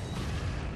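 A brief, muffled explosion from the Resident Evil 4 video game, a low, boomy rumble that stays fairly faint and lasts under a second.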